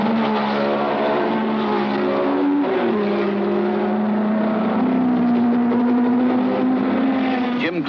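John Surtees' Ferrari race car at the German Grand Prix drones with a continuous loud engine note, its pitch shifting slightly as it holds speed.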